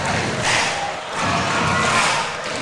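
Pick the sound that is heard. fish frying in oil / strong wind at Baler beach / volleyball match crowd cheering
volleyball match crowd cheering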